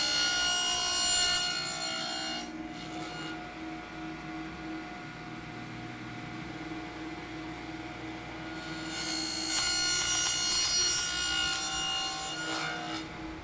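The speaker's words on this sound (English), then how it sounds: "make a pass in here with the 1/4 inch blade" A saw with a 1/4 inch blade, set against a fence on a finger joint jig, cuts a groove in wood: a harsh, close rasping and whirring that swells in two loud passes with a quieter stretch between.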